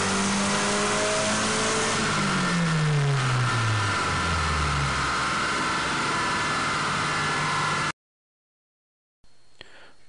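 Truck engine fitted with an AEM TruBoost controller pulling hard in third gear at 12 to 13 psi of boost, a loud revving whine that climbs repeatedly in pitch for about eight seconds, followed by sudden silence and a faint return.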